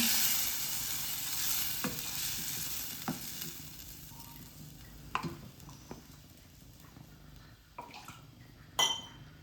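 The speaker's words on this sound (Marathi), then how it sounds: "लगेच कालवे आणि पापलेटची डोकी आहे ती घालून घेणार आहे" Clams and pomfret heads cooking in a pan for a Maharashtrian curry, a soft simmering sizzle with occasional sharp clinks and scrapes of a utensil against the pan, fairly faint and close.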